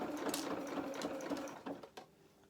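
A sewing machine stitches taffeta fabric with a rapid, even mechanical chatter close by that stops abruptly near the end, followed by faint handling noises.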